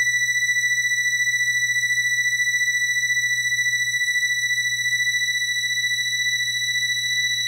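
A single steady, piercing high feedback tone drones on unbroken, loud and alone, with a low hum underneath throughout.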